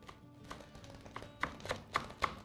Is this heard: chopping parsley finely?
yes